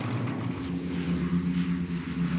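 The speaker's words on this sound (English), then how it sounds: "The 30-ton Lancaster was designed for flying at altitude." Avro Lancaster bomber engines drone steadily in flight, a loud, continuous multi-engine propeller hum with no break and no voices.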